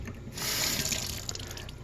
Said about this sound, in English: So let me just run it under a little water.